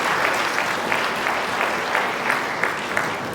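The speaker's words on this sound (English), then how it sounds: "Can you clap hands for yourselves at this juncture?" Applause from staff and graduating students at a university exit dinner, a continuous crowd of clapping hands with a few sharper claps standing out, fairly loud and steady.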